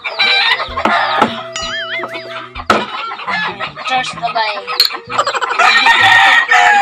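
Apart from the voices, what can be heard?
rooster crowing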